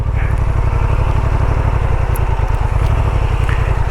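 Honda Transalp 750 motorcycle engine chugging low and steady as it creeps slowly up an off-road hill, a close, continuous loud throb with an even pulsing rhythm.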